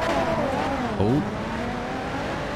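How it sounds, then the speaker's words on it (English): A Toyota Supra in the video game GTA 5 roars close by and pulls away fast during a street race, its engine note rising and shifting with a brief surge midway, loud and continuous with no talk. "Supra took off. Supra's fast."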